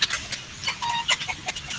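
Chickens clucking up close at a riverside farm on a children's field trip, a string of short sharp clucks and squawks in an irregular rhythm over faint background noise.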